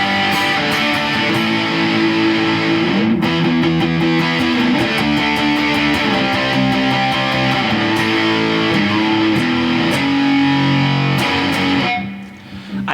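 A heavily distorted electric guitar, played through a distortion pedal, plays chords and riffs, loud and saturated, ringing on with a brief dip near the end.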